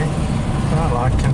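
Volkswagen Type 3 engine running at a steady, even pace while driving, a close low hum under people talking.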